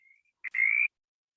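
A mountain chorus frog calls once in West Virginia: a faint short trill, then a brief note and a rising raspy trill of about a third of a second, alone against silence.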